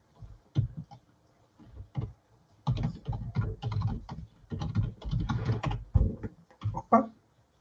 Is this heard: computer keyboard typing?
yes